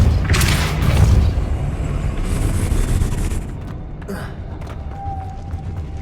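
The Depulso spell fires in Hogwarts Legacy: a loud, booming blast with a rushing, whooshing body that gradually fades over several seconds into quieter clicks and a faint tone.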